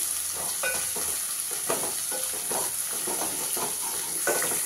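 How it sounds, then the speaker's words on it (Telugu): Onions with ginger paste and turmeric frying in a pan, a steady close sizzle broken by repeated scraping strokes of a spoon stirring through the mixture, with no voices. "ఇట్లా అల్లం పచ్చివాసన అయ్యాక మంచిగా కలుపుకుందాం."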